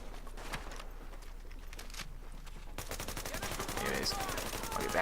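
Gunfire in The Division beta video game: rapid repeated shots in a dense, continuous volley that grows louder and more intense toward the end, over a steady game background.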